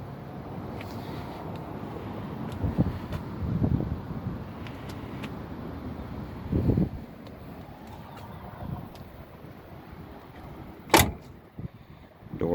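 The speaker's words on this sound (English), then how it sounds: "Doors sound like a brand new car." Car doors on a 1977 Ford Thunderbird with a 351 V8 open and close in a few distinct solid thuds and latch clicks, the sharpest near the end, against faint outdoor wind and background hum.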